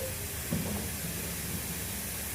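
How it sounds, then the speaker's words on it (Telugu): Onions frying in a pan, a steady close sizzle and hiss that runs without break throughout, with faint clinks near the start. "చూడండి, మనకి ఇలాగా కొంచెం పచ్చివాసన అందులో నుంచి పోయే వరకు కూడా మనం ఇలా ఉల్లిపాయలు వేయించుకోవాలి."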